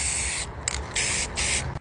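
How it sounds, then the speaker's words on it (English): A spray paint can hisses out black paint in three short bursts with brief pauses between them, close and bright against a quiet background. "Spray black on everything."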